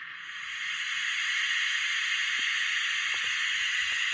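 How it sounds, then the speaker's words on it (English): A loud, steady steam-release hiss from an Athearn N scale 4664 coal-burning Challenger steam locomotive model swells in within the first half second, then holds evenly to the end. "You get your steam release."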